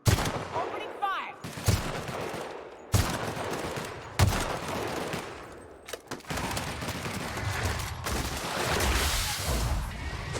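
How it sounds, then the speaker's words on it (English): Gunfire in The Outer Worlds, sharp repeated shots and bursts over several seconds in a dense, loud game soundscape, with occasional speech mixed in. "Opening fire!"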